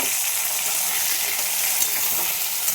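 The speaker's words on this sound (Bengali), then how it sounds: "চালটাও আমি ভেজে নেব।" Washed Gobindobhog rice frying in a pan with ginger, green chilli and whole garam masala, a steady bright sizzle with faint stirring scrapes, close and continuous with no talking.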